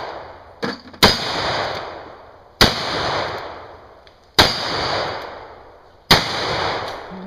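Four loud gunshots from a 212 shooting stage at an outdoor range, each a sharp crack followed by a long rolling echo, spaced about one and a half seconds apart with no talking.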